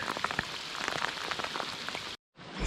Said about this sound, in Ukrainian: оставляє мене рибачить і мокнуть під дощом